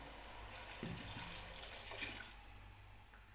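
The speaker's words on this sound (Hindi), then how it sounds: "इसके साथ ही इसके अंदर जाएगा 1 गिलास पानी" A glass of water pours into a cooking pot that already holds oil, for potato and pea curry, giving a steady splashing rush of water for a few seconds, close and fairly loud.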